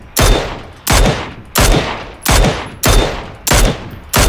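Six loud gunshots ring out close by at an even, steady pace in the video game PUBG (Battlegrounds), each one with a sharp crack and a short decaying echo.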